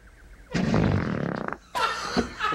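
A woman's fart from a TV commercial is played in slow motion, a long, loud, low rumbling blast that sputters out after about a second, followed by a brief second burst.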